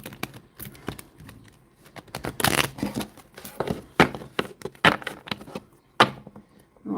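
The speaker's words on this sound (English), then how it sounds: "We're just going to pull these cards before we kind of finish up." Tarot cards being shuffled by hand make soft, quick papery riffles and taps, irregular and fairly quiet, with no talking.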